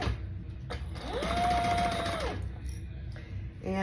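A sewing machine set to a long stitch length bastes a seam, running in one close, steady whirring burst of under two seconds, between quieter handling noises.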